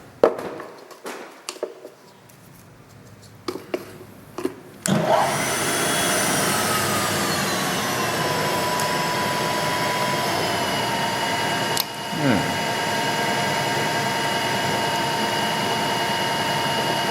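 Power drill boring into a punch mark on a steel vise mount, a few sharp taps and knocks at first, then a sustained loud whine of the running drill with a brief dip partway before it carries on steadily.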